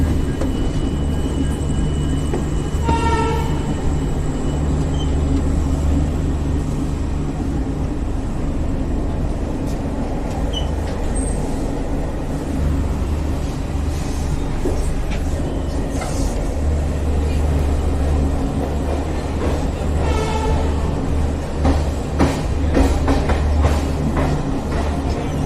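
The Ranchi Garib Rath passenger train rumbles steadily on its run, a loud, continuous low roar with rail noise and a few rhythmic clicks over the track. There is no talk.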